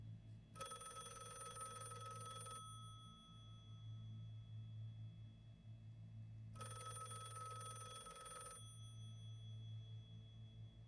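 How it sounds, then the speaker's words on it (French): A telephone ringing in a web series, two long bright electronic rings separated by a pause, heard over a low steady hum. "Eh, le téléphone qui sonne."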